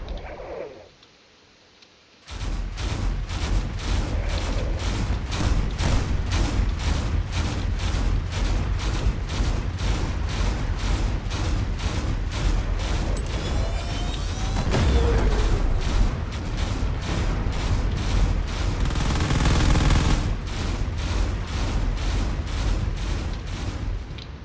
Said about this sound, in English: it is now starting to use its burst fire cannon at close range